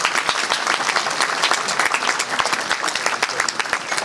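Dense, steady applause from a ceremony audience at a medical society event honoring an institute director, many hands clapping continuously and fairly loud throughout, with no talk.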